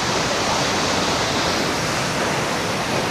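Athirappilly waterfall in Kerala pours with a loud, constant roar of rushing water, a dense unbroken wash of noise with no other sounds standing out.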